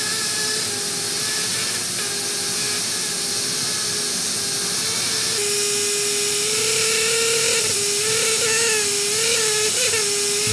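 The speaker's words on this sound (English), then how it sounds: "Other tools, such as an air scribe, remove the rock to fully expose the fossil." An air scribe chips rock away from a fossil, a steady, loud high-pitched pneumatic whine with a constant hissing buzz that shifts slightly in pitch partway through, with no voices.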